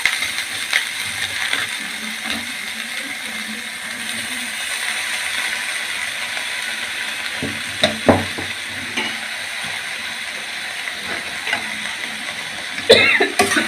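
Cabbage stirred in a hot frying pan with spices, a steady sizzle running throughout with occasional scraping and spatula knocks, a louder clatter near the end.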